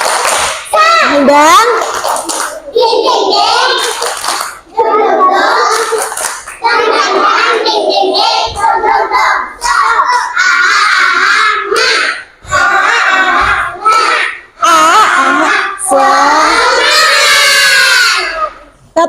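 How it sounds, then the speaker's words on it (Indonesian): Schoolchildren at SD Karangdawa 2 perform a 'tepuk semangat' clapping chant, loud shouted voices in bursts mixed with rhythmic claps, close and energetic, with pauses between phrases. "Biar semangat, tepuk semangat dulu."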